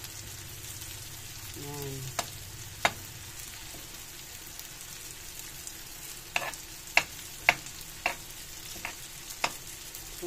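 Tofu (tokwa) and onion sautéing in a pan for adobong kangkong, a steady low sizzle with sharp spatula scrapes and clicks against the pan; a voice speaks briefly near the start.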